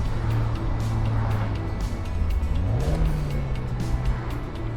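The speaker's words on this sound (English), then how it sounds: "Now that sounds like a sports car." A Mazda MX-5 engine rumbles nearby, then revs up with a rising growl that holds at a higher pitch.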